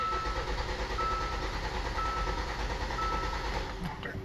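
A Hyundai Santa Fe engine with low power and no acceleration cranks steadily on the starter during a compression test, a continuous loud churning drone that holds for several seconds before easing slightly near the end.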